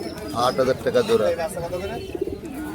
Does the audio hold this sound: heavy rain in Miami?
no